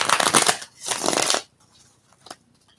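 Two quick bursts of tarot cards being shuffled, riffling crisply up close, then a few soft clicks and taps.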